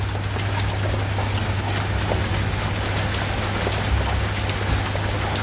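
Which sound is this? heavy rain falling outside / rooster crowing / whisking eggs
heavy rain falling outside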